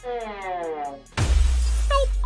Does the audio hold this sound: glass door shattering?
yes